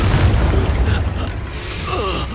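An Expulso spell detonating in Hogwarts Legacy during a goblin battle, a dense booming burst with rumbling low end that rolls on for a couple of seconds amid combat noise.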